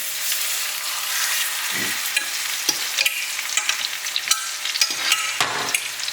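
Steak frying in butter in a hot pan, a loud steady sizzle and crackle with occasional bursts of spatter and a few clinks and scrapes of the pan, no voices.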